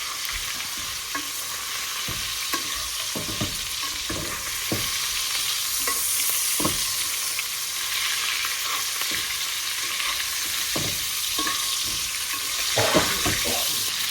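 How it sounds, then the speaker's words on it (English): Tomahawk steak basting in a cast-iron pan with rosemary, a steady loud sizzle with scraping and spoon clatter throughout, no voices. "now we're going to go ahead and start basting"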